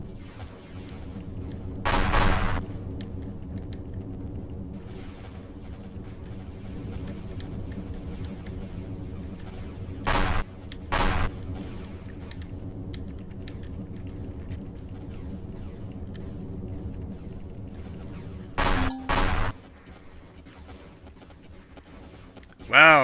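Cannon fire against turrets in Empyrion Galactic Survival: several loud, brief booming blasts, single or paired, spread through a steady mechanical hum, with a voice talking at times.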